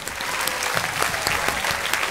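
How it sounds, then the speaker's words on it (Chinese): A studio audience on the Chinese quiz show Yi Zhan Dao Di claps in a dense, sustained burst of applause, steady and fairly close, with no talk over it. "再次把掌声送给他们"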